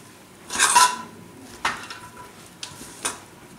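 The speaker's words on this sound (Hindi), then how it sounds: "उसके बाद इसे हम अच्छे से मिक्स करेंगे चम्मच के साथ" A spoon stirs pakora batter mixed with water in a bowl: a loud scraping burst, then a few shorter clinks and scrapes against the bowl, close by with no voices.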